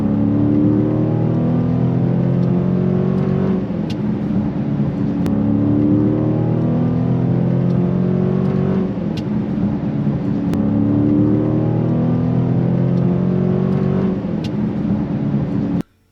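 Dodge Hellcat under way, its engine and exhaust droning loud and close with a deep, steady rumble and repeated rising gear-by-gear pulls, running continuously throughout.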